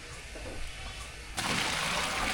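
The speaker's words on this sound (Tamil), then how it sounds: "சாம்பார் சாத்துக்கு வெந்நீர் சேர்த்துக்கலாம்" Hot water being poured into a cooking pot for sambar rice, a soft liquid wash that turns sharply louder and brighter partway through as the stream hits, heard close with no talk.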